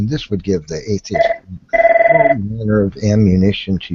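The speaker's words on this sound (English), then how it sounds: "Oh wait, that's for me. Hold on, that's my phone." A telephone bell rings loudly in a single sustained trill between stretches of someone speaking, close and clear.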